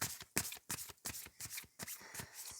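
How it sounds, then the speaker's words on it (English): Tarot cards are shuffled by hand in a rapid run of crisp riffling bursts, about a dozen sharp papery flutters in quick rhythm, close and quiet. "Let's shuffle and see what your message is."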